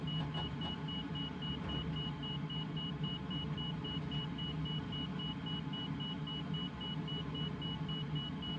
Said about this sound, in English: I don't know what is beeping at me.